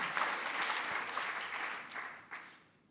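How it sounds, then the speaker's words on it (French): Audience applause fills the room at a talk on pesticides and health, a steady patter of many hands clapping that holds for a few seconds and then fades out. "on peut applaudir"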